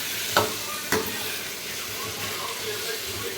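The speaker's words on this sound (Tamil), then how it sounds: "கிழங்கு போட்டு நல்லா நம்ம வந்து வணக்கி விட்டுக்கலாம்." Potatoes sizzle steadily in a pan with a couple of sharp scraping stirs, close by and moderately loud.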